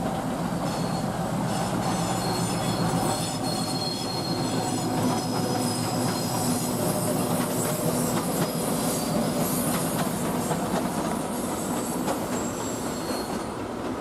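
A diesel commuter train, number 6441 from Kolomyia to Dilove, rolls along the rails with a continuous loud rumble, clattering wheels and high squeals throughout, heard close with no voices.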